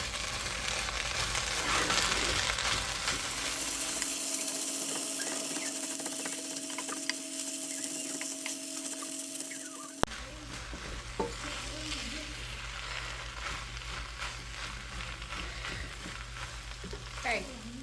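Chorizo and potatoes are stirred together in a hot pan, a spoon scraping and pushing the mixture over a steady sizzle, with bursts of clatter and frying noise throughout.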